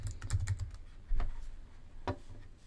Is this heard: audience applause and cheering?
no